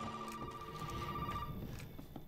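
Telephone ringing inside the Resident Evil 7 horror game: a faint, distant electronic bell tone pulsing through a murky, rumbling ambience, quiet and partly buried under background noise.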